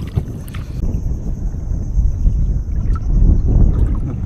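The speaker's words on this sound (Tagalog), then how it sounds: "Lakas ng hangin." Strong wind buffets a fishing boat out at sea, a steady roaring rush with low rumbling and a thin whistling tone, loud and continuous throughout.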